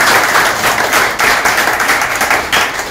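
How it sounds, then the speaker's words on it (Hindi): A room of people gives trainees a loud, close round of applause, with dense, continuous clapping and no talking. "इनके लिए जोरदार तालियां हो जाइए"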